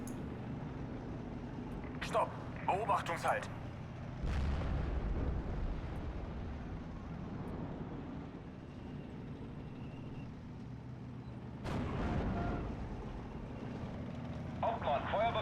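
Artillery guns fire in the WWII strategy game Steel Division: Normandy 44, deep booming blasts rolling out amid distant battlefield rumble, while someone talks over it.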